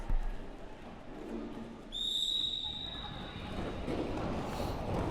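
A single sharp, high whistle blast sounds over a noisy crowd backdrop, holding steady for a few seconds before fading.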